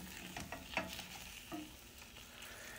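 Eggs frying sunny side up in a pan beside bacon, a faint steady sizzle with a few light scrapes and taps from stirring, heard alone without talk.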